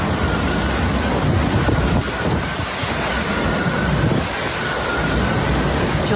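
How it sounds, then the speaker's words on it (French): Hurricane wind gusts over Mayotte, reaching 226 km/h, make a constant, loud, dense roar that buffets the microphone for six seconds without letup. "Puis au plus fort de l'ouragan, à 8 heures du matin, avec des rafales allant jusqu'à 226 km/h."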